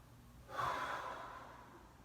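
A single slow breath drawn in and let out during a quiet seated breathing exercise, soft and close, rising after a brief silence and easing off gradually, with no talking.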